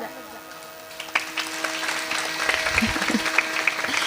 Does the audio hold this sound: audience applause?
yes